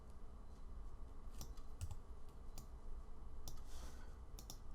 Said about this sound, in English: Hitting R on the keyboard